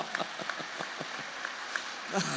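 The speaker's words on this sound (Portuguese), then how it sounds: "Desculpa, pode aplaudir." An audience claps during a Catholic homily, with a few scattered, sharp hand claps over a low room murmur while a voice is faintly audible.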